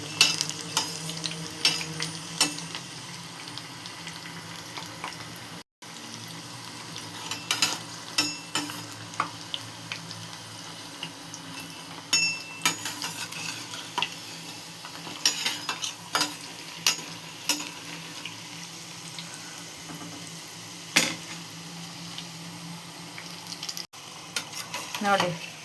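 Maida vegetable pakodas sizzle in oil in a small pan with a constant crackling hiss, broken by frequent clinks and scrapes of a spoon stirring against the pan.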